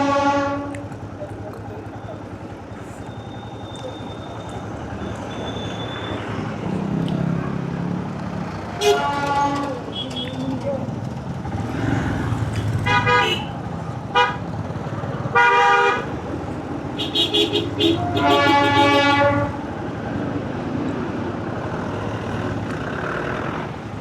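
The Darjeeling toy train runs near Batasia, sounding a series of short, loud horn toots in bursts over a rumbling background, with some talk mixed in.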